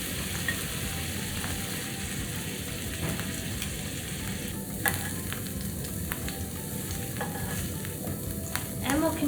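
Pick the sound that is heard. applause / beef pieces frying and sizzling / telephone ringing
beef pieces frying and sizzling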